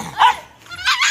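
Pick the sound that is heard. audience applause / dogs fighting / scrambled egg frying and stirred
dogs fighting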